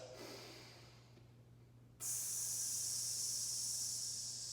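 Deep, controlled breaths during a home workout while the hands are squeezed: soft breath noise at first, then a loud, steady hissing airflow that carries on without pause, with no talking.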